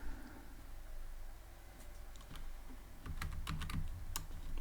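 Someone types Python code on a computer keyboard, starting with a few sparse taps and then a quicker run of crisp clicks close by.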